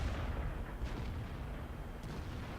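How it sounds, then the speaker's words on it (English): Tank gun shots from the World of Tanks video game, heard as dull, low booms blurred into a steady rumble of battle noise, with no talking. "1 shot, 2 shots, and good night, sweet prince."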